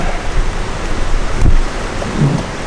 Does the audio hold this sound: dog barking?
no